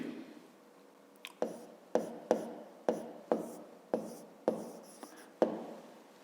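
A pen writes on paper while working a fifth-grade maths exercise: a close series of about a dozen short, crisp scratching strokes in an uneven rhythm, with no talking.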